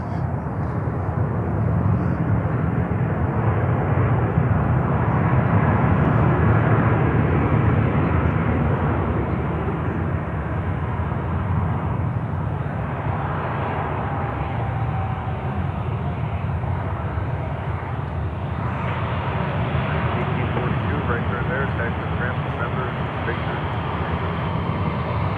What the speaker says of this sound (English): This is American Airlines Flight 1842 coming in from New Orleans. That's a 319-100.